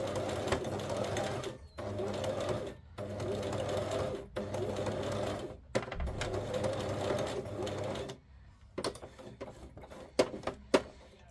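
Sewing machine stitching paper scraps with fabric in several long whirring runs broken by brief stops, then a few short clicking bursts, close and clear.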